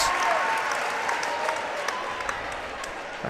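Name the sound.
applause from basketball crowd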